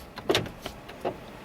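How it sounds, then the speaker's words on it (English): Car door locks engage in a couple of quick mechanical clunks, close and moderately loud, with a short gap between them inside the car. "he just locked the car doors and started laughing"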